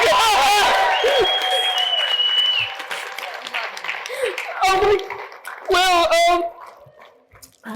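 Audience applause at a student comedy class showcase: a burst of clapping mixed with cheers and voices, swelling loudly at the start, then thinning out and flaring up again in shorter bursts.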